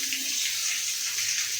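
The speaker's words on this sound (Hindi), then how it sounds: "अब ये वाल मिक्सर को पानी चालू किया हमने।" Steady, close rush of water pouring from a bathroom wall mixer and shower, a continuous hissing spray with no breaks.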